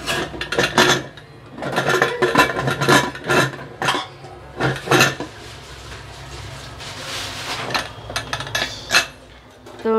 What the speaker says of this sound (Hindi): तो मैं अभी कुकर बंद कर देती हूँ